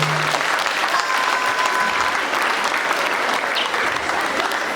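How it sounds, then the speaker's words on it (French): A crowd claps loudly and continuously for a peace ambassador at a school ceremony, a thick unbroken wash of applause throughout. "j'aimerais une salve d'applaudissements"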